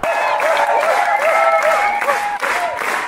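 Clapping celebrates a channel passing 6,000 subscribers, loud steady applause close by, carrying a faint tonal background sound with it.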